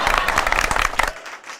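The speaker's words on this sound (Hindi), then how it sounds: "तालियां तालियां।" Audience clapping at a stage play, a brisk burst of many hands that quickly fades to quiet, fairly loud and close.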